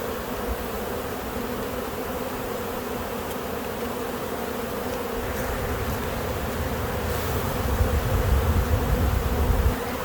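Honeybees in an open hive in spring, a dense, steady buzzing swarm close by that continues unbroken throughout, with no talking.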